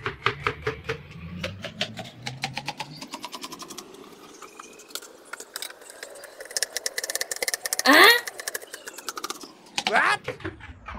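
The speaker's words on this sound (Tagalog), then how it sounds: "pabilisan tayo sa paghiwa ng ampalaya" Quick knife chops through bitter gourd (ampalaya) on a cutting board, a rapid run of sharp close taps that thins out midway and returns in bursts, with people talking throughout.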